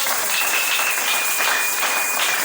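A church congregation breaks into sustained, even applause, a dense wash of many hands clapping together at close range with no pauses.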